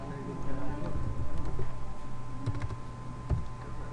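Java code is typed on a computer keyboard in quick, irregular bursts of key clicks set over a steady low hum and background noise.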